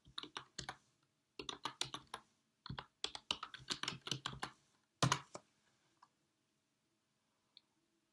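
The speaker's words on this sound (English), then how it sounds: "type laney.edu/library in the address box" Keystrokes on a computer keyboard as a web address is entered into a browser, quick bursts of clicking typing in three runs separated by short pauses, then a few final taps before quiet.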